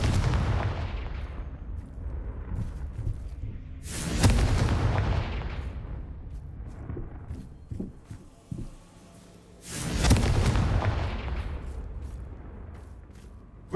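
Two big Confringo blasting-spell explosions in Hogwarts Legacy on PS5, each a loud booming burst that decays over a couple of seconds, with lighter pops and rumble between them.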